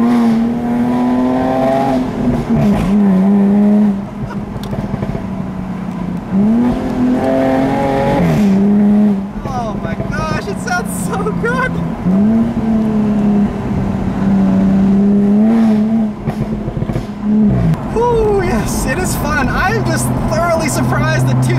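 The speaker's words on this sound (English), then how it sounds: "surprised that 275 wide tires are coming unstuck that easily in a car with 340 horsepower" Jaguar F-Type V6 convertible with 340 horsepower and 275-wide tires accelerates hard, its loud engine rising and dropping through repeated gear changes, with brief tire-spin squeal, close and sustained, and no talk audible.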